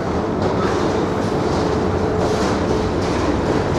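A steady, loud mechanical rumble with rattling and clattering from an old wooden escalator in Antwerp, Belgium, churning continuously, with no voices over it.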